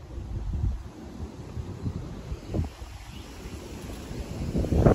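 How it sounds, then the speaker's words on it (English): Wind gusts outdoors on a warm, cloudy March day in New Jersey. It rumbles and buffets the microphone with uneven low swells, fairly faint and steady, and no one speaks. "it's also kind of windy and cloudy too"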